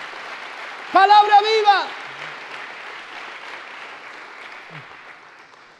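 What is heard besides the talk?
applause in church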